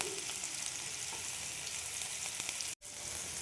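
Grated ginger and green chili fry in hot oil with a steady close sizzle and crackle, broken by a brief moment of silence near the end.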